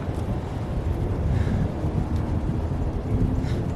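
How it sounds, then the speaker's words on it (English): Strong high wind roars against a tarp-covered treehouse roof frame, a loud, continuous low rumble and buffeting close to the microphone. "the wind catching that thing"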